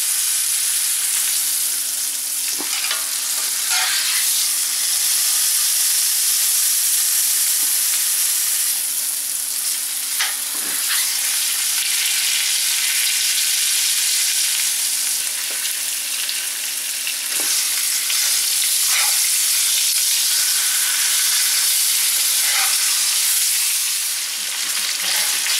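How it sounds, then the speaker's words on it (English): Rib eye steak edges searing in a pan, a loud, continuous frying sizzle that hisses steadily for the whole stretch with occasional brief crackles and pops. "we're just gonna sear off the edges."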